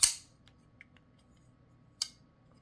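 Kizer Hawk folding knife being opened and closed, two sharp metallic snaps about two seconds apart with faint small clicks between, close and crisp, no speech.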